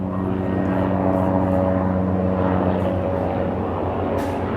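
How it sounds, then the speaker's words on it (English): A helicopter flies close overhead near a third-floor vantage point, its steady engine drone and rotor hum holding loud and continuous throughout. "Just a helicopter."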